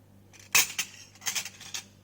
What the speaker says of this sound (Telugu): కొంచెము ఆవకాడో హాఫ్ కట్ చేసి ఇదిగో కొంచెం దాన్ని గుజ్జు తీసి ఇందులో వేస్తున్నాను